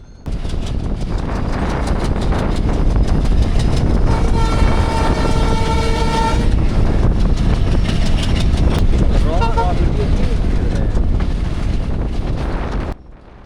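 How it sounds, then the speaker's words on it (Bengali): A commuter train on the Rajshahi–Rohanpur line near the Chapainawabganj border rumbles steadily along at close range, with wind buffeting the microphone and brief tonal horn-like notes partway through. "এটি রাজশাহী শহরের সাথে চাঁপাইনবাবগঞ্জ জেলার সীমান্তবর্তী স্টেশন রহনপুরকে সংযুক্তকারী একটি কমিউটার ট্রেন"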